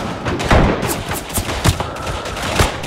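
Rifle fire in the World War I shooter Verdun, with the Tirailleurs Sénégalais on the Aisne map. Several loud, sharp cracks come at irregular intervals over a backdrop of distant battle fire, and nobody talks.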